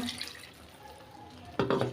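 Water is poured from a rinsed mixer-grinder jar into a simmering fish curry, a short burst of splashing and pouring near the end after quiet kitchen background.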